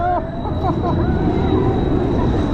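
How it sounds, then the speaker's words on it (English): The Cyclonator roller coaster at Paultons Park brakes with a loud rushing rumble and brief squealing tones at the start, as riders' voices come through. "Oh, they're braking it now."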